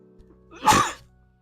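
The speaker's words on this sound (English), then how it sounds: "You're gonna sneeze." A pet lets out a single sharp sneeze, a short close burst rising and fading within half a second against an otherwise quiet indoor background.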